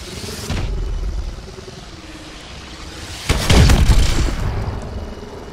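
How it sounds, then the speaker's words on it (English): Missile strike explosions boom through a Call of Duty: Advanced Warfare match, with one short blast early on and a louder, longer rumbling impact later, heard over steady battlefield ambience. "Friendly missile strikes incoming."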